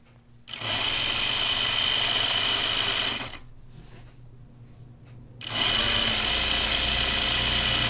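A home sewing machine runs in two steady bursts, its built-in lamp rattling against the body, with a brief quieter pause between the stretches of loud, close whirring.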